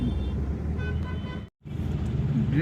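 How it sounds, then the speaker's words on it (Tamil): Busy road traffic in Tiruvannamalai, with a steady rumble of engines and a honking car horn. The sound cuts out briefly partway through. "இவ்வளோ டிராஃபிக்காக இருக்குங்க"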